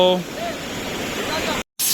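Steady broadband rush of falling water, loud and continuous, cut by a brief silent gap near the end before the roar resumes.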